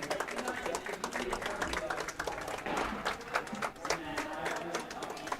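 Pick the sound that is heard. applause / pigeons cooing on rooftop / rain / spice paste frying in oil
applause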